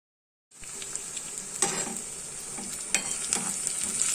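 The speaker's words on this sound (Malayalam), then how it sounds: "കുറച്ച് ചുവന്നുള്ളി അരിഞ്ഞത്, വട്ടത്തിലരിഞ്ഞത് വെളിച്ചെണ്ണയിൽ നന്നായിട്ട് താളിച്ച് ചേർക്കുക." Sliced shallots tempered in hot coconut oil sizzle steadily in a pan for mackerel curry, a bright continuous crackle with a few louder pops and stirring scrapes, close and alone after a moment of silence.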